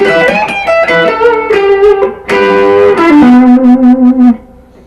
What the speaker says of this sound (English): this is a minor sweep